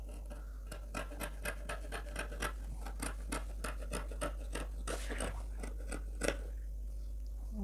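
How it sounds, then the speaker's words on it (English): Scissors snip through fabric being cut out for a flare gown, giving a run of quiet, crisp cuts in an uneven rhythm over a low steady hum. "So I will first cut them from here."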